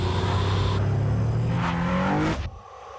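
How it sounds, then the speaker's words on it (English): Infiniti G Sedan or G Coupe engine with a V-Vel engine revs loudly and rises in pitch in a TV advert, the roar building then cutting off abruptly near the end. "The Infiniti V-Vel engine creates more power using less fuel."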